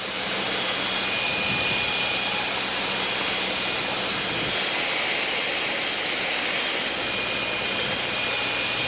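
Small airplane engine on final approach with power reduced, a loud steady broadband roar from inside the cabin that holds constant throughout, with no talking.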